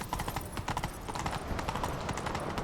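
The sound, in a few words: horse galloping hooves in video game The Witcher 3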